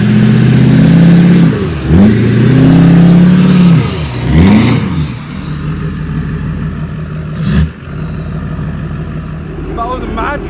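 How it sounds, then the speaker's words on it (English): A Duramax pickup truck stuck in mud during a tropical storm revs hard in repeated surges, engine rising and falling loudly and close as it tries to crawl out. "I'm gonna go put it in four-wheel drive, and we should crawl out pretty easily."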